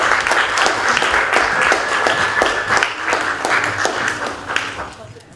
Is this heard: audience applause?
yes